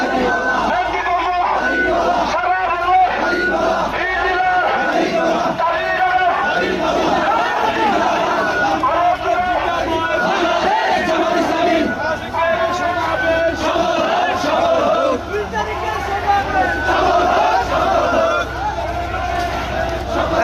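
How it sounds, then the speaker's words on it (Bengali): A large crowd at a Bangladesh Jamaat-e-Islami political rally in Barisal chants slogans loudly and continuously, voices massed together in rhythmic shouts with a dense babble underneath throughout. "বাংলাদেশ জামাত ইসলামের বিশাল এক সমাবেশ হচ্ছে আজকে বরিশালের উদ্দেশ্যে"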